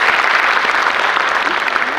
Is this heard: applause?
yes